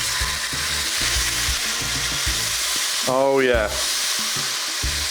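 Steak sears in a hot, dry cast iron pan with oil and garlic, a loud steady sizzle and frying hiss throughout, with a brief low voice breaking in midway.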